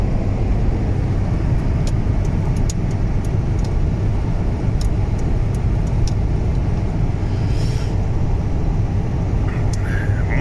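A truck drives along a highway in Manitoba, producing a steady, loud road and engine roar that continues without a break, with faint clicks and a few brief higher tones above it.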